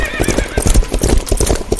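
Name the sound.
horses galloping and neighing, sound effect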